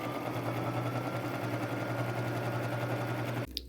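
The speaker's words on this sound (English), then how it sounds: "I'm going to run a straight stitch with a 1/4 inch seam allowance" A sewing machine runs a straight stitch with a 1/4-inch seam down the side of a bandana, giving a steady close mechanical hum that stops abruptly near the end.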